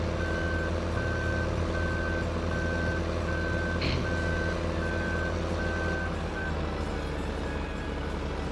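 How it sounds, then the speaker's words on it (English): In the Farming Simulator 15 video game, a truck's backup beeper sounds a steady run of about ten evenly spaced beeps over a constant low engine rumble, then falls silent while the engine keeps droning. "the backup beeper is highly annoying"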